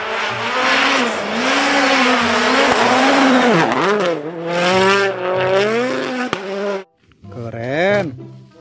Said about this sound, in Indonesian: Yang ini mobil balap teman-teman.